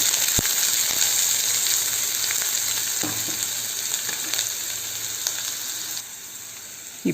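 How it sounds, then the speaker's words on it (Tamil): Chopped big onion sautéing with mustard seeds in a pan for bitter gourd poriyal makes a continuous close sizzle, dotted with sharp pops and crackles and an occasional stirring scrape, with no speech. "பெரிய வெங்காயம் போட்டு கொஞ்சம் வதக்கி விட்டுக்கலாம்."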